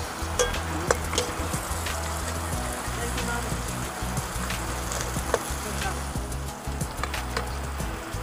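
Onions fry in a pan for adobong igat, eel adobo with coconut milk, making a loud, dense crackling sizzle with scattered sharp pops that continues without a break.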